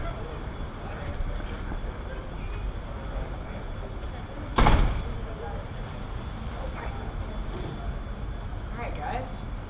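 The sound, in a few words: going out through doors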